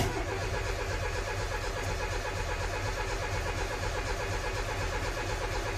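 A carbureted Austin Metro engine runs with a continuous, even mechanical drone close by, a steady rough churn with no pauses or talk.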